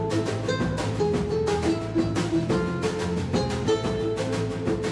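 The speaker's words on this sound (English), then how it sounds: "It's the sound of surf music." Surf music from a band, steady and full with continuous strummed and picked tones and a driving rhythm, played alone without talk.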